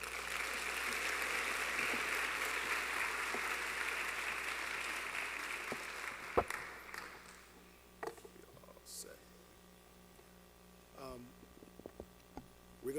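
Audience applause welcoming Dr. Paul Warmington to the podium at a Crown Forum lecture, a dense steady clapping that fades out after about seven seconds, followed by a few faint thumps and stage noises.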